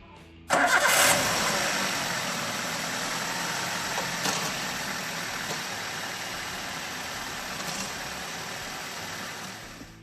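A Toyota Avanza or Daihatsu Xenia car engine cranks and fires, then settles into a steady, loud, close idle that continues for the rest of the stretch, with no one talking.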